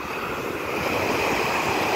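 Ocean waves wash up the shore at Myrtle Beach in a continuous broadband roar of surf with some wind noise, steady and fairly close.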